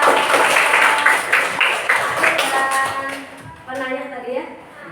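Audience applause at a student group presentation, steady clapping filling the room for several seconds before tapering off as voices take over.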